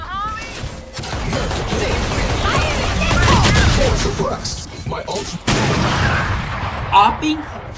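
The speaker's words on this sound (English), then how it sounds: "They have an Odin! And they have an Odin loaded?" Odin machine gun in Valorant, heavy automatic bursts over several seconds, loud and close, mixed with impacts and game sounds, with voices chattering in the background.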